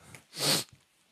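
A single sharp sneeze bursts out close to the microphone, with a faint breath before it and a short sniff just after.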